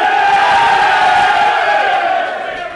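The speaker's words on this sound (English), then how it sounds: "give us a cheer now." Football supporters at a Sunderland versus Bristol Rovers match roar and cheer loudly in a bitterly cold stadium, a thick wall of shouting voices that holds steady and then fades toward the end.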